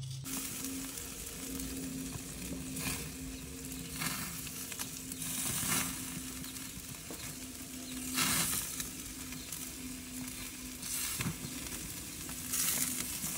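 Soft, steady sizzling of food frying in a pan, with occasional louder crackles and bursts of hiss; quiet, no talking.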